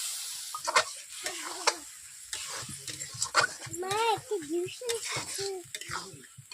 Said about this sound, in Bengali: টমেটো কষু দেওয়ার পর আমি এক মিনিট নেড়ে নিচ্ছি